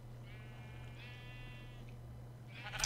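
A Minecraft sheep bleats in a drawn-out call that wavers into a second bleat, alone over a steady low background hum.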